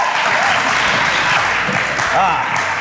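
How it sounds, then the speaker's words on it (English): A studio audience claps loudly and steadily throughout, welcoming a guest on a comedy show, with a voice talking over the applause. "Another round of applause for Martin's neighbor"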